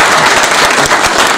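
A mushaira audience at an award distribution bursts into loud, close, continuous applause, a dense wash of many hands clapping with no talk over it.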